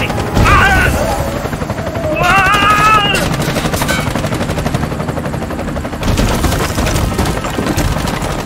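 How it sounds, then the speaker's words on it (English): Loud, dense gunfire and explosions in the shooter game Bright Memory: Infinite, with a helicopter-like roar and bursts of automatic fire under game music and voice lines across the whole stretch. "I'm under heavy fire"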